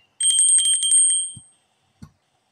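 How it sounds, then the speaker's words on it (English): A bell sound effect, the kind added in a video editor, gives a rapid bright trill of many quick strikes like a ringing phone bell for about a second, then fades, followed by two soft low thumps. "In this, add sound effect, go to social and add bell."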